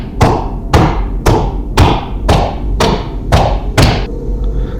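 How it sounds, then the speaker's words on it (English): Heavy footsteps thump upstairs in a house, a loud evenly spaced run of about eight booming thuds with ringing tails, each step landing roughly half a second apart. "I hear heavy footsteps coming from upstairs."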